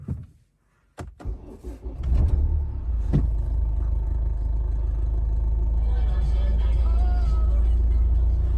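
A 2010 Renault Scenic 2.0 dCi automatic diesel cranks briefly after a few clicks and catches, settling into a steady low idle rumble close by, with a faint electronic chime over it.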